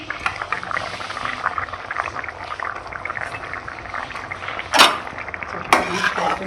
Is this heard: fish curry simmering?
yes